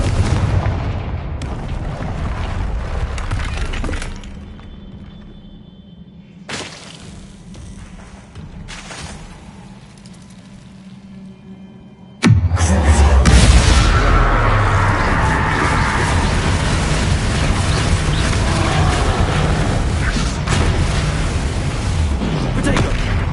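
A Confringo blasting spell erupts in a Harry Potter video game, with a few booming blasts against rumbling background before a massive, sustained explosion roars in loud and close for the last half.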